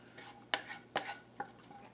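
A spoon scrapes and clinks through a pot as cooked collard greens are stirred into winter squash soup. Three or four soft, close knocks come over a faint background hiss.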